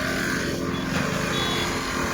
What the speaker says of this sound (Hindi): कैसे रेस हो गई ये गाड़ी, एकदम धुआं धुआं हो गया।